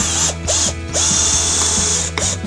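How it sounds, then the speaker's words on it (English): Screw being driven into the center mark of a piece of wood with a power driver, loud whirring bursts broken by short pauses and ratcheting clicks, close up. "what I'm going to do is drive this screw into the center"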